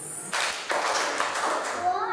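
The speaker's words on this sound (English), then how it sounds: "Let's do 3 claps." Children in a primary maths classroom clap together in a short run of sharp, close hand claps that blend into a steady burst, with a faint voice at the end.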